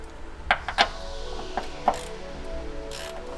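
A 12mm ratchet turns out the long top bolts of a D2 Racing coilover on a G37 Convertible, giving a few close, sharp metallic clicks and clacks at an uneven pace over a low steady hum.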